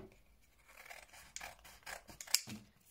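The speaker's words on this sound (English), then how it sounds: "just cut along the lines. Cut it all out." Scissors snip through paper while cutting out jigsaw pieces, a quiet run of irregular crisp cuts and rustles with one sharper snip near the end, close and alone.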